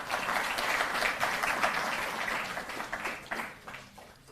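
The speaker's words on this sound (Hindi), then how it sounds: "जोरदार तालियों से आप स्वागत करें" Audience at a Delhi government event honouring Olympic athletes applauds to welcome a speaker, a soft, steady wash of clapping heard from some distance.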